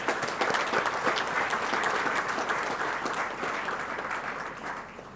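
Dense applause from an audience at a cell and gene therapy symposium inauguration, honoring two institutions: many hands clapping together, strongest at first and then gradually fading.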